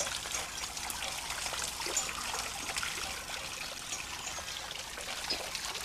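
Water pours steadily to drive a clock escapement, a continuous close trickling and splashing flow with no pauses and no voices.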